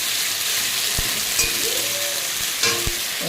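Ginger-garlic paste sizzles in hot oil in a pan for a fish curry, a steady loud frying hiss close up, with a few soft clinks from a spoon against the pan.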